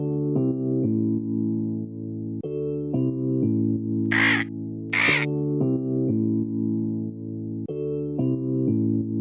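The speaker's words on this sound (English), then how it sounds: "V is for vulture." A vulture gives two harsh, raspy caws in quick succession, loud and clear against a steady background of musical chords.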